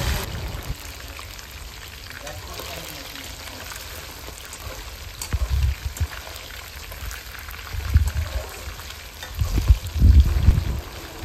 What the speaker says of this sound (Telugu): సో ఇలాగా ఉడికిపోయాక ఫ్రై చేసుకోవాలండి, ఫ్రై చేసుకోవాలి.